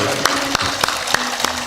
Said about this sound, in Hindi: जोर से बजा दो, एक बार बजा के दो